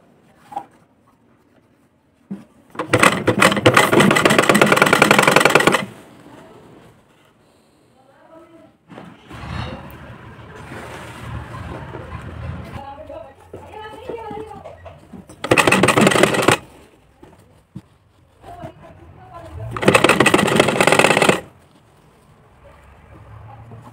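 Sewing machine stitching a fall onto a saree, several loud, steady whirring runs lasting a few seconds each with pauses between them, while someone talks quietly in the gaps.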